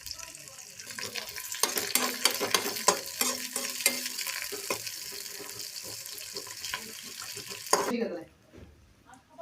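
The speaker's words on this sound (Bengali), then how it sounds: "এই পেঁয়াজটা দিয়ে একটু নাড়াচাড়া করবো যতক্ষণ না লাল হয়ে আসছে" Onions with garlic and ginger fry and are stirred in a pan for dal. The spoon scrapes steadily over a continuous close sizzle for several seconds, then the sound drops away sharply.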